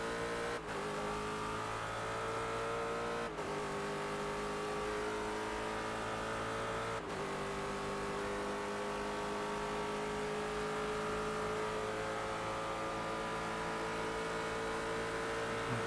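Race car engine in the iRacing sim game drones continuously at high revs throughout, with a few sharp gear-shift breaks, steady and loud with no talking.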